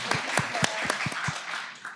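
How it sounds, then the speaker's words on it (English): A handful of sharp, separate handclaps ring out at a business event, spaced unevenly rather than building into full applause, with faint voices in the background. "let's give a round of applause for creating this product"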